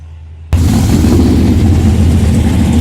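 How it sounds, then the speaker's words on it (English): Classic 1970s race cars circling the Talladega track, a loud heavy engine roar that bursts in suddenly after a quiet start and holds steady and close throughout. "classic cars that raced at Talladega back in the 70s drove around the track for fans to see and hear"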